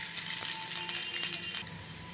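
Potatoes for egg curry fry in hot oil in a pan, giving a steady, close crackling sizzle that holds at an even level for about two seconds, with no voices.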